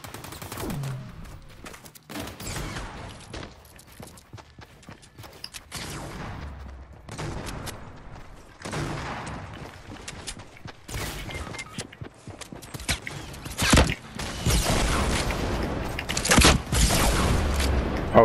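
Enemy gunfire in a Fortnite match arrives in repeated bursts of rapid shots, some distant and some close and loud, separated by short lulls and building into heavier firing toward the end.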